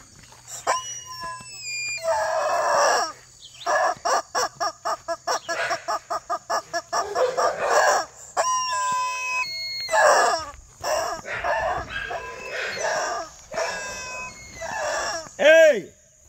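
Chickens and chicks on a homestead call out in rapid clucking pulses and sharp high chirps. The calls come in bursts with short pauses between them, and people's voices can be heard nearby.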